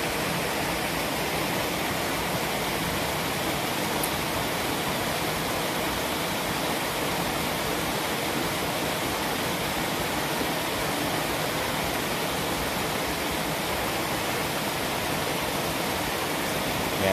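Steady, loud rush of flowing water, like a stream or small waterfall, continuous and unbroken throughout with no voices.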